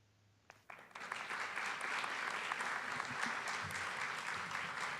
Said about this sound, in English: I hope you could hear that applause from your living room.